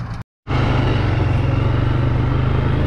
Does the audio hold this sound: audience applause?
no